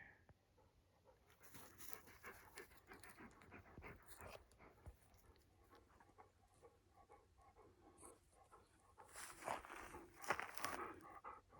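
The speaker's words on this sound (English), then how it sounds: "You sure are breathing hard, old boy." An old yellow Labrador, thirteen and a half, pants heavily outdoors during a walk on a property, with rapid rhythmic breaths that come in bursts, close and fairly faint, mixed with rustling and footsteps.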